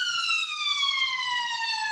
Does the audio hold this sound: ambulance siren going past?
yes